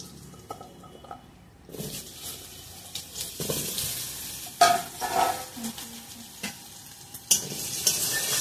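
Potato pieces fry in hot oil seasoned with white cumin and bay leaf, a steady sizzle that starts abruptly and stays loud, broken by scraping stirs and clatters of a spoon against the pan.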